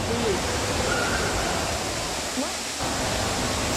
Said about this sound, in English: So this place used to be the world's tallest indoor waterfall until they built Jewel